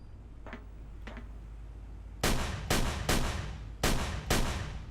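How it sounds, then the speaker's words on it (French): Five loud, sharp gunshots from the video game Call of Cthulhu: Dark Corners of the Earth, fired at a steady pace after two faint earlier clicks, each crack decaying quickly over a low background rumble. "Bon, je tire sur les ogives."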